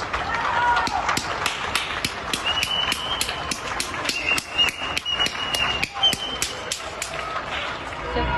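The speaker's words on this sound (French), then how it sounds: "Ça fait trop plaisir d'entendre les applaudissements." Evening applause for hospital staff during the Covid epidemic: a steady, rhythmic run of claps ringing out from a distance, with voices now and then underneath.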